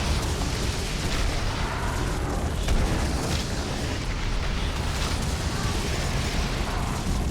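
Grenade or rocket blasts from the video game Doom 3 rumble in a dense, continuous wall of booming explosions and crackling bursts, loud and close with no pauses.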